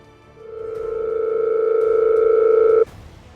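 A steady electronic telephone tone plays as a call goes unanswered. It rises to a constant pitch for about two and a half seconds, then cuts off abruptly.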